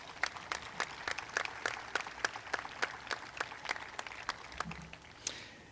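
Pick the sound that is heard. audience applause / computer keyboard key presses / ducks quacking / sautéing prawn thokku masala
audience applause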